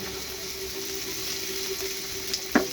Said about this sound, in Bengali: এখন এটাকে আমি ভেজে নিব ভালো করে